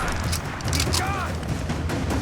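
Gunfire in the video game Rise of the Tomb Raider, a steady spray of shots under shouted voices and battle noise, dense and continuous.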